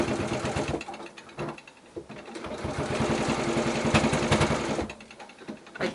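A sewing machine runs in bursts, stitching a zippered quilted pouch, with a steady mechanical whir that pauses briefly and restarts several times, close and fairly loud throughout.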